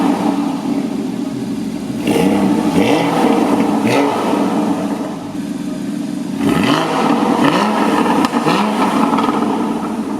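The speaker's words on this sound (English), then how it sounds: "I'm going to start this car up on a cold start" A sports car engine with sports exhaust on fires up from cold and idles loudly at 2,000 RPM with a deep, rumbling exhaust, revving a couple of times, close and steady throughout.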